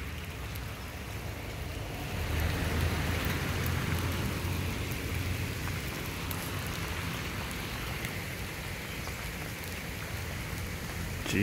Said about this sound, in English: I think the rain is coming in for the evening.